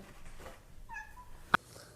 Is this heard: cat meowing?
yes